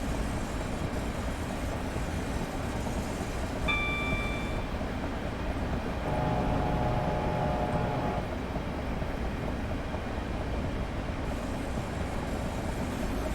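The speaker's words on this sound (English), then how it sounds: "Another train." Train passing in Train Simulator 2019 on the Chatham Main Line, heard from a Class 465 Networker, with a continuous rumbling rail roar and brief tonal horn-like notes partway through, fairly faint with no talking.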